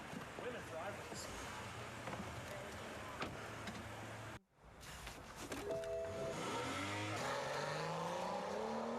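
A car revs and pulls away in an emergency, with engine noise rising and sweeping upward after a brief drop in sound. Voices talk over the engine.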